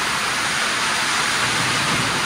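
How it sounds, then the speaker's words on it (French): Heavy rain pours down during a coconut palm planting job, a dense, loud, steady roar of hiss that fills everything without a break, with no talking. "je sais pas si vous allez m'entendre avec le bruit de la pluie"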